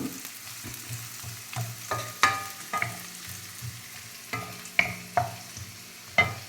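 Carrots and beans sizzling and being stirred in a hot pan for gobi fried rice, with soft steady frying punctuated by repeated scraping spatula strokes, close and clear with no voices.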